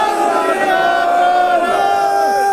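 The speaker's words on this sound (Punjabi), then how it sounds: "ਮੈਂ ਫਿਰ ਜਕਾਰੇ ਦੇ ਰਾਹੀਂ ਦਵਿੰਦਰ ਚੌਧਰੀ ਜੀ ਦਾ ਸਵਾਗਤ ਕਰਾਂਗਾ ਬੋਲੇ ਸੋ ਨਿਹਾਲ" A large crowd roars back a long, loud, sustained Sikh jaikara battle cry in unison at a taxi operator union election celebration at a railway station, the chorus of voices holding steady throughout.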